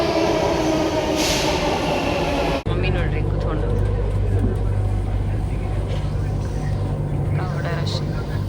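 A metro train rumbles loudly and steadily nearby with a low droning hum, while people talk over the noise.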